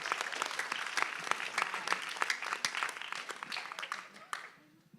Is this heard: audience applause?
yes